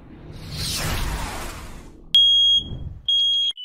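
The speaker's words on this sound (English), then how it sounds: "those false alarm chirps or piercing sounds from your smoke detector" A smoke detector gives a false alarm: after a soft whooshing rush, a piercing high electronic tone sounds twice in loud, sustained bursts close by.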